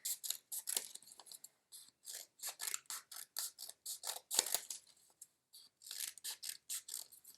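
Scissors snip through paper strips in quick successive cuts, a rhythmic run of crisp, close, short crunching bursts separated by brief pauses.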